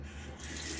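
A tap runs at a sink to rinse after a shave, giving a brief, steady, quiet rush of water close by with no pauses.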